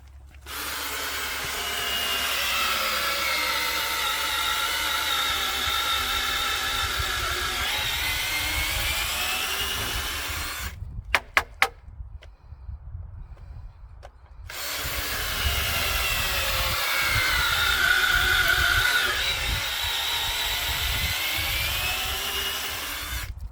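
A power drill with an oiled bit bores into freshly cut, wet wood, grinding loudly and steadily for about ten seconds, stopping for a short pause with a few clicks, then boring again for another long, even stretch.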